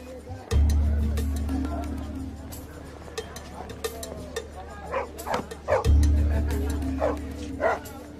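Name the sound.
village dogs barking in the Sundarbans, Bangladesh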